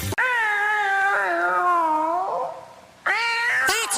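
A cat lets out two long, loud meows close by, the first drawn out and wavering, the second shorter after a brief pause.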